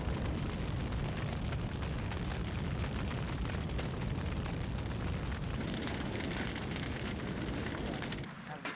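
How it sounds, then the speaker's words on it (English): A cannon loaded with an ill-fitting wooden plug fires in a loud, sustained roaring blast that rumbles broadly for several seconds before tapering off, with no talk over it. "this time the cannon does fire, but doesn't produce the somersault the director wanted"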